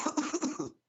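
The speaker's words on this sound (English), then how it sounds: "More coughing." A man coughs repeatedly during a live online debate, a quick series of close, rough hacking bursts, then a moment of silence before another sharp cough.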